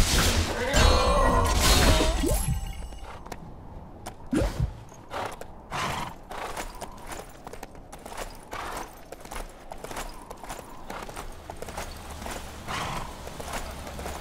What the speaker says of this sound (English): Soon as you find a horse, just saddle up and ride it on back here to me.